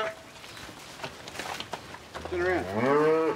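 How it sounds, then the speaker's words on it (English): A single cow gives a loud, drawn-out moo near the end, after scattered shuffling and light knocks in stockyards as a mob of cattle is moved through for weighing. "putting this mob of cattle through the yards for weighing"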